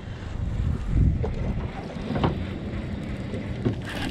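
A boat cruises across Lake Hamilton, its steady low engine rumble mixed with wind buffeting the microphone, continuous and fairly loud throughout with a few brief knocks.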